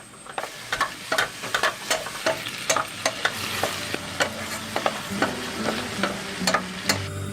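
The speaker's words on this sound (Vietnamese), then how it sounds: "Và mình cho nấm vào xào lên" Mushrooms stir-frying in a pan with garlic and shallots, a soft steady sizzle broken by regular scraping strokes of a utensil, fairly close and with no talk.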